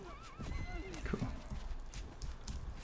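Cavalry horses in a Mount & Blade: Warband battle neigh and whinny amid clip-clopping hooves and clashing combat, with a voice talking over the busy, continuous din.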